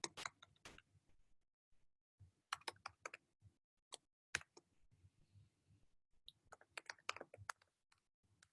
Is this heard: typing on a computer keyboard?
yes